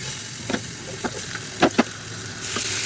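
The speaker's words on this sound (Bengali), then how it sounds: "এবার মাছগুলোকে তেলের মধ্যে দিয়ে আমি ভেজে নিলাম।" Spiced pedi fish frying in hot oil in a pan, a steady close sizzle broken by a few sharp crackles and spatters, with no one talking.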